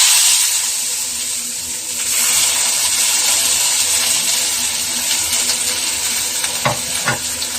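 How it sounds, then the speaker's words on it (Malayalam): Mustard seeds splutter in hot oil in a pan alongside green chilli, onion and beans, giving a steady loud sizzle with a couple of sharper crackling pops near the end. "കടുക് ഒന്ന് പൊട്ടി വരട്ടെ"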